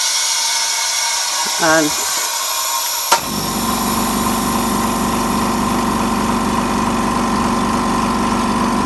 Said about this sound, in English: Now they put the compressor on